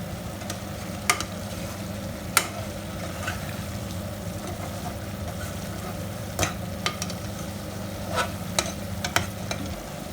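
Chicken and potato pieces fry for chicken biryani in a steady, even sizzle that runs without a break, with a few sharp clicks of a utensil against the pan.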